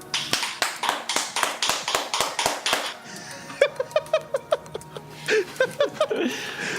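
A small group claps loudly and continuously close to a microphone, first in a fast run of sharp, evenly spaced claps, then a looser, more scattered stretch mixed with chuckles and laughter.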